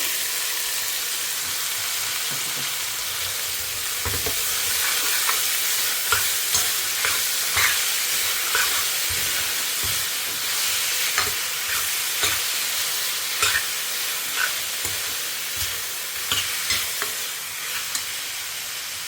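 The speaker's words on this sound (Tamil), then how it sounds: "கடுகு ஜீரகம் உளுத்தம்பருப்பு கடலப்பருப்பு இது நல்லா பொரியட்டும்" Mustard seeds, cumin, urad dal and chana dal fry in hot oil with a loud, continuous sizzle. Scraping stirring strokes and small crackles recur throughout, and no one speaks.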